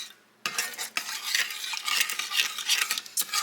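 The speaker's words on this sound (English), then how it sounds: "Get it all stirred up." Scraping, stirring sounds of a spoon moving through Mexican rice in a pan, steady and close, with faint sizzling underneath and no voices.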